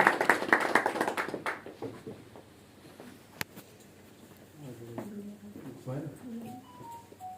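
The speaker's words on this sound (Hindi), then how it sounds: "जोरदार तालियों के साथ मैं चाहूंगा कि ललित मदान जी और सीन मदान जी जोरदार तालियां" A burst of applause fills the first second or two, loud and dense, then fades into a room where voices talk.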